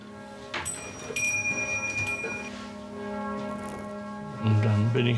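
Catholic church bells ring in a sustained, tonal hum at a moderate distance, with some clatter and a louder knock near the end.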